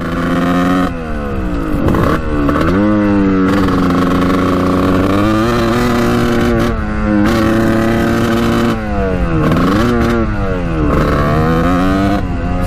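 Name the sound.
1989 Kawasaki KX125 dirt bike engine revving at full throttle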